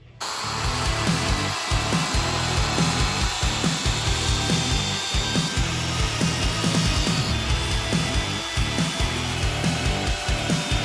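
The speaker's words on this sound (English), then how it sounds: "We're going to start wire brushing all of the parts, and then we'll begin the finishing process." A wire brush rubs hard and steadily across wooden bathroom vanity parts, giving a continuous loud scratchy scrubbing with a rhythmic back-and-forth pulse and no voices.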